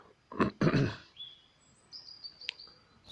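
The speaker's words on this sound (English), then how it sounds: "there's birds whistling outside" A thin, high bird whistle rises faintly after a couple of low rustling thumps, with a brief sharp click near the end; birds outdoors before dawn.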